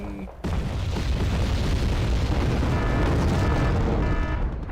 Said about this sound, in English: Things are exploding after all.